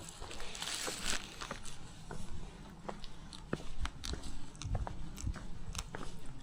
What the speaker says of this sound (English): Sorry, I know I'm disgusting chewing. It's got pickles on it.